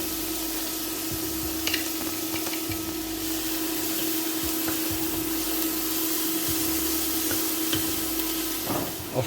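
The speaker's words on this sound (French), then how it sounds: "je vais mettre un peu d'huile d'olive et je vais y faire revenir mon oignon émincé et une gousse d'ail écrasée" Chopped onion and crushed garlic sauté in olive oil in a casserole pot, giving a steady soft sizzle with a faint hum and occasional light stirring clicks, no voices.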